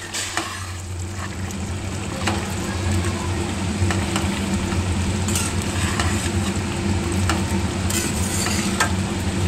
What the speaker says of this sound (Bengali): এরপর একটু নাড়াচাড়া করে নিচ্ছি।